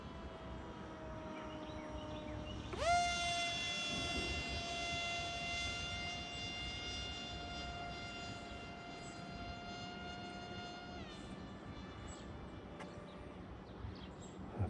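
A Recruit Mini model airplane's electric motor whines faintly in the distance, then jumps sharply in pitch as the throttle opens and holds a steady high drone that slowly fades.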